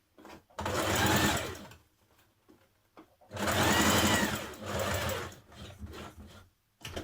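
A sewing machine stitches a seam on a Simplicity 8602 top in two main bursts of rapid whirring, with short pauses and a brief stitch between them.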